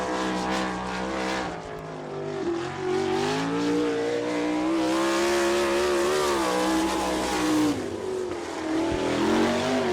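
Shaw Motorsports 23S sprint race car driven by Frankie Kerr lapping Attica's dirt oval during All Star Circuit of Champions time trials, its engine roaring loud and steady with rising and falling pitch through the turns, alone.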